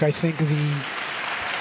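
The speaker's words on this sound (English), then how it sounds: "we're hearing a nice round of applause in the background" A crowd applauds at the 2021 weightlifting world championships during the women's clean and jerk, a steady wash of clapping running in the background beneath a commentator's voice.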